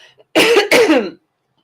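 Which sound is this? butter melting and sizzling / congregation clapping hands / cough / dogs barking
cough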